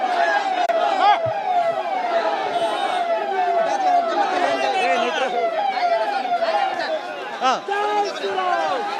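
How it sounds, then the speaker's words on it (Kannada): A police vehicle siren wails continuously and loudly at a tense street protest, its rising and falling tone steady throughout, with crowd chatter underneath. "ಪೊಲೀಸರು ಸೈರನ್ ಅನ್ನು ಹಾಕೊಂಡು ಇಲ್ಲಿಂದ ಮುಂದಕ್ಕೆ ಹೋಗುವಂತ ಕೆಲಸಕ್ಕೆ ಮುಂದಾಗ್ತಿದ್ದಾರೆ."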